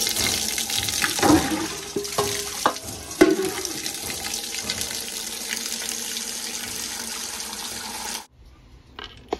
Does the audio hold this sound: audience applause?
no